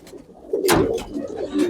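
A pigeon coos close by, a few low throaty calls with some soft rustling and flutters around them.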